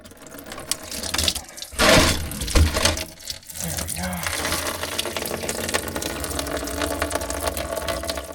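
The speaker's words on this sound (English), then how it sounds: "let's go ahead and drain the coolant." Coolant drains from a Ford Focus engine during water pump work, a steady splashing, gurgling pour after some clattering handling, continuing evenly to the end at close range.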